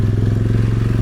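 Several ATV engines idle and rumble steadily up close while crossing a rain-swollen stream on Tennessee off-road trails, a continuous low throbbing drone with faint clatter.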